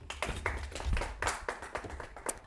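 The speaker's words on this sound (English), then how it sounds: "A round of applause, please." Brief round of applause from an audience at a school spelling quiz, with scattered hand claps coming in uneven bursts for about two seconds at moderate volume, nearby and without talk.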